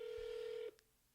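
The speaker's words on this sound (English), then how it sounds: "a lot of ringing, sometimes not a lot of answering." A single telephone ring tone sounds through a handset during a real estate cold-calling dial session, a steady electronic tone lasting under a second before cutting off into quiet line hiss.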